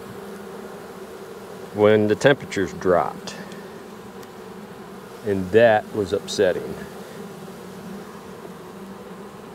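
Honey bees at an open hive produce a steady, low buzzing drone that continues throughout, while a person speaks over it in two short bursts.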